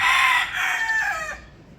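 A rooster crows once, loud and close, a single long strained call that tapers off at the end.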